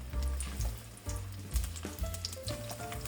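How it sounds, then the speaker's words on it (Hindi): Okra (lady finger) frying in a pan, a steady close sizzle with a low rumbling bubbling underneath, while some faint clinks of stirring come and go through the three seconds. "भिंडियों को फ्राई होने में 4 से 5 मिनट लगेंगे"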